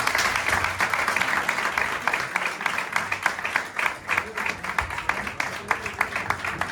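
An audience applauds at a talk on Spanish fighting bulls, steady moderately loud clapping that continues throughout, slightly uneven in density.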